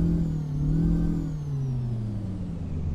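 The 8V engine of a Kenworth W900B truck in American Truck Simulator revs and then slowly drops in pitch, a loud, close, droning hum lasting three seconds with no voices.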